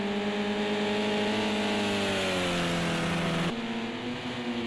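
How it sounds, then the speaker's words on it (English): Race cars at an Oulton Park International sprint race: a loud, sustained engine drone whose pitch slides down as a car goes into a corner, then steps to a new note, with no talk over it. "And we can see Bidzster throwing it into the corner."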